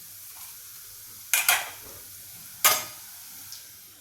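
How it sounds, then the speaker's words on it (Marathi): Two separate sharp bursts of hissing sizzle rise from hot oil as semolina cheeselings go in to deep-fry, each fading quickly into a quiet background. "आता हे तळून घेऊ"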